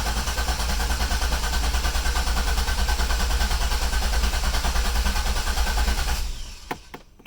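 A Corvette C5 Z06 engine cranking after 16 months in storage, with a loud, steady whirring drone for about six seconds before it cuts off, leaving a few faint clicks.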